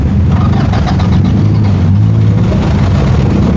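A car engine turns over and runs with a steady low rumble, close and loud, on a street in Baclaran during a traffic enforcement operation.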